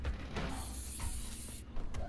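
Aerosol can spraying in the game inFAMOUS Second Son, a sustained close hissing burst lasting over a second, with thumps and rumble around it.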